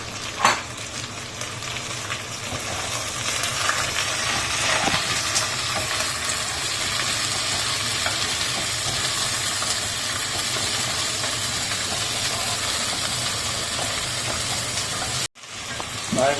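Onions frying over a low flame in a wrought iron vessel for mutton rogan josh, a dense continuous sizzle and hiss close up, with faint stirring knocks and a brief dropout near the end.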